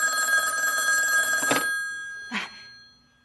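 A telephone rings loudly with a steady electronic trill for about a second and a half, then gives one shorter burst after a pause and falls quiet, in an indoor hospital setting.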